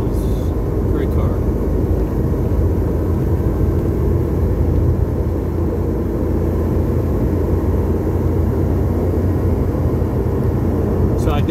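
A car engine that has just had a clutch and IMS bearing job runs loud and steady with the engine-compartment carpet removed, a dense, unbroken drone that stays close and constant throughout.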